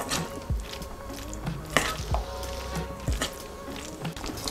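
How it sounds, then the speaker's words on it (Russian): Spoon mixing Olivier salad with smoked sausage and olive oil dressing in a bowl, giving irregular soft wet scrapes and clinks close by, with no talk. "и все начинаем замешивать"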